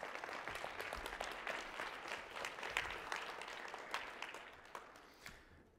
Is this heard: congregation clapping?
yes